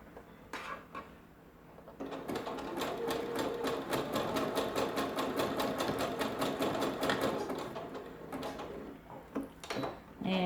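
Sewing machine stitching knicker elastic, a fast, even run of mechanical stitching clicks that starts after a few scattered handling knocks, holds steady for about six seconds, then stops into more close handling sounds.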